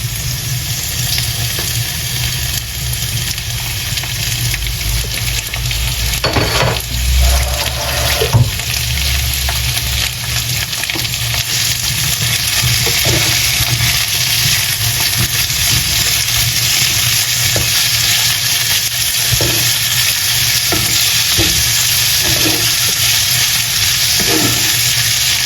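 Meat frying in a pan while being stirred, a steady broadband sizzle held throughout with occasional scrapes and clinks of the utensil, close and continuous, no talking over it.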